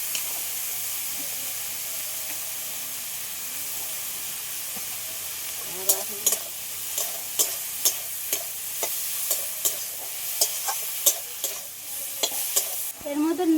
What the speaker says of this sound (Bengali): চিংড়ি মাছ দিয়ে দেবো এর মধ্যে হালকা করে ভেজে নেবো পটলের দানাগুলো